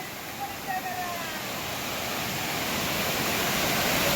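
Water from the Vajrai waterfall roars in a steady, loud, continuous broadband rush that swells slightly toward the end, with no talk.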